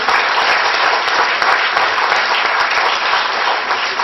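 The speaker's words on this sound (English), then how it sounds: "Next round of applause for them." A crowd at a school district board meeting applauds with steady, dense clapping that continues without pause from start to finish.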